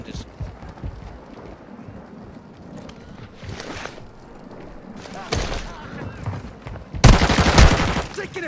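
Call of Duty Warzone 2 gunfire comes in several scattered bursts, some distant and muffled, ending in a louder, closer volley, with players talking over the action.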